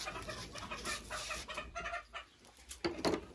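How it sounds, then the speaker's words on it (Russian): Busy chicken sounds fill the clip, a steady jumble of high peeping from young chicks and clucking close by, with a sharper burst near the end. "Пищат цыплята."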